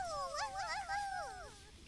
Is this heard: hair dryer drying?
no